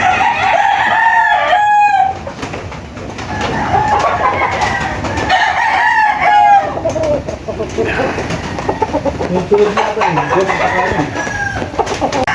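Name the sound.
gamecock roosters crowing at Tilaok Game Farm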